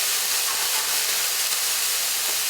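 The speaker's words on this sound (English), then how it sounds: "You can deglaze with a little vinegar." Vinegar hitting a hot pan of garlic during deglazing, giving a steady, loud steamy hiss that holds evenly throughout with no talk over it.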